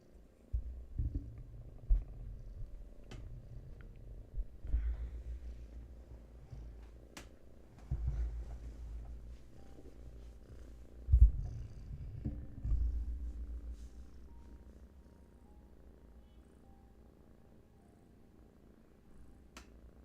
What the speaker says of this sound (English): You may hear a kitten purring.